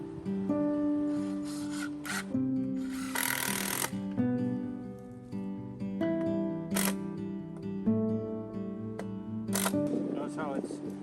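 Impact driver hammering a screw into a wooden post, loud buzzing rattles in repeated bursts separated by short pauses, close by and dominant.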